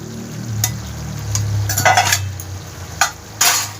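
A spatula stirs and scrapes through a thick young jackfruit curry with yogurt and fried potatoes in a sizzling pan, ending with a couple of sharp metallic clinks against the pan.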